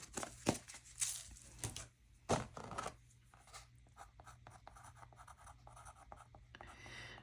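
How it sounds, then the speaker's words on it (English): A pen scratches out a short handwritten label on watercolour paper in close, quiet strokes, with a few louder scrapes early on and softer continuous writing after. "And I'm just going to write Hawaiian."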